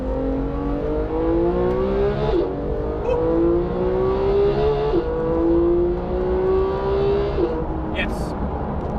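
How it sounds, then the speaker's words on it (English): Porsche GT3 engine blipping on downshifts at low speed, with several rising revs and sharp throttle blips around each gear change over a steady engine drone, recorded from the car while someone talks. "downshift, now it blips, now you can hear it"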